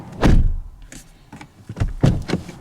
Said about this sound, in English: I love the thud of a quality vehicle closing.